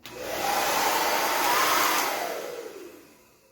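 An aging hair dryer with weakened airflow from gummed-up buildup of hair and dust blows with a loud, steady whooshing whir that rises quickly, holds, then slowly fades as it winds down, with no voices.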